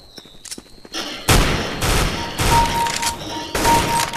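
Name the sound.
automatic rifle gunfire in video game Counter-Strike Global Offensive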